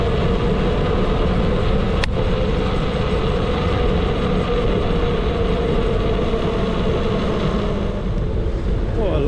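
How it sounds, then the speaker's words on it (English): A 2000 watt electric tandem bike cruising down a seaside promenade, giving a steady, loud rushing roar of wind and rolling noise with one brief sharp click partway through. "Cruising down the seafront on a 2000 watt tandem."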